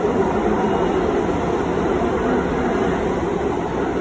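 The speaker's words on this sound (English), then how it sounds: "Let the train pass." A steady, loud rumble of a New York City subway train rolling past, a dense continuous roar with no breaks or voices.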